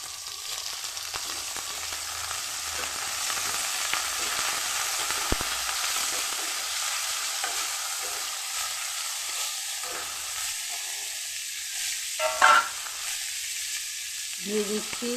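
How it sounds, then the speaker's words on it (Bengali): Potatoes frying in a hot pan (kadai) on a stove, a steady soft sizzle running throughout with a few faint stirring scrapes and a brief clatter near the end, no one talking. "এখন আলুটা ভেজে নেব।"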